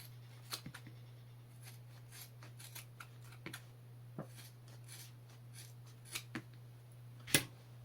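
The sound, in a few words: standard trauma shears cutting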